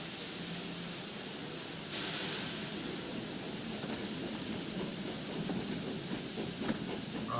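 Steam hiss and rolling rail noise from a tank-engine train leaving Knapford station on the Island of Sodor, a steady close wash of steam with a sharp burst of hiss near two seconds and rumbling wheels beneath.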